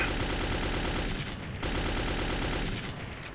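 Rapid gunfire from the video game Metro 2033 Redux, a dense continuous burst of automatic shots that stays loud throughout with brief dips, no voices.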